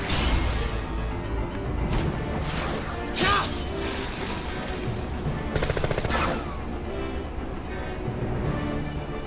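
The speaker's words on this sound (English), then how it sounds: "Oh, you have a machine gun." Machine gun fire in the Final Fantasy 7 battle, dense rapid bursts and crackling shots over a busy, loud game mix with swooshes and impacts, continuous throughout.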